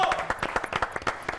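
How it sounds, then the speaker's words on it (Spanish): Audience applauding an impressions act at a televised comedy and variety show, with scattered, uneven claps that rise and fall over a murmur of background voices. "aplauso para el Club de Imitaciones."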